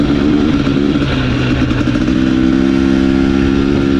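A 2021 KTM 250 XC TPI two-stroke dirt bike runs loud and close while being ridden, its engine droning steadily with slight shifts in pitch as the throttle changes, and no voices.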